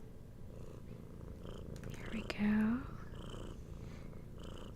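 A cat purrs steadily close by, a soft continuous rumble under brief talk, with a louder swell of purring near the middle.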